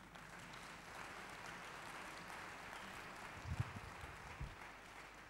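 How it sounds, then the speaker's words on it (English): At a bishops, overseers, pastors and leaders summit meeting, a crowd claps faintly in a steady, distant wash of applause, with a few low thumps near the end. "Pastors, now, can you give him a nice hand clap?"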